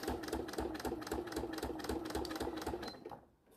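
A sewing machine stitches the handles onto a small fabric bag, running in steady rapid rhythmic bursts close by, then stopping near the end.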